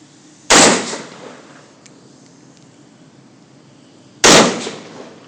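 Two loud SKS rifle shots fired outdoors, the first at the start and the second about four seconds later, each a sharp crack followed by a short decaying echo, with quiet background in between.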